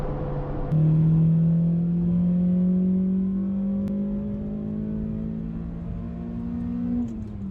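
A nimble car's engine accelerates from inside the cabin, a smooth rising hum climbing steadily in pitch over several seconds before easing off, with no talking.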